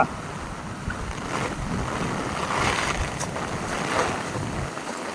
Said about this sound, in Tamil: வெள்ளத்தை பார்த்தாயா?